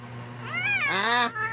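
An angry cat yowls close by in one rising, wavering meow that swells into a harsh caterwaul, with a low steady hum underneath.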